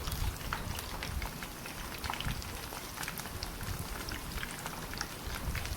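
Small balls of poha sizzle in hot oil in a pan, a steady dense crackle and bubbling that runs unbroken throughout, fairly close and without talk.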